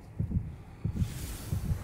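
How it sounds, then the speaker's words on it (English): A character's heartbeat in the video game God of War Ragnarok, three slow double-thump beats, low and throbbing, heard alone with a soft hum behind them. "Oh, it's his heartbeat."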